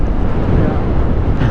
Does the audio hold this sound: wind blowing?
yes